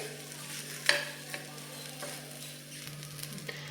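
Rice for paneer pulao is stirred and sautéed in a pan, giving soft scraping stirs over a faint steady sizzle, with one brief metallic clink, quiet and close.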